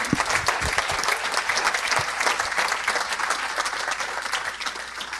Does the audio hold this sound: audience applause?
yes